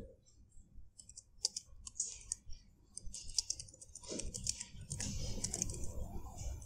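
Rapid, light typing on a computer keyboard while coding in C++, with a steady patter of clicks close to the microphone and a slight background rumble.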